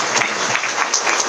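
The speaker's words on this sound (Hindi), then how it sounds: "मैं चाहता हूं एक जोरदार तालियां उनके लिए।" An audience breaks into applause for a guest, a dense, continuous burst of clapping that fills the short moment with no talking over it.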